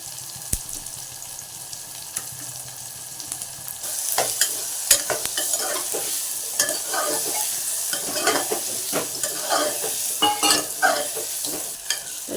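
Bitter gourd (kantola) slices stirred and fried in hot oil for kantola sabji, a steady broadband sizzle that grows louder partway through, with repeated sharp scrapes and clicks of the spoon against the pan.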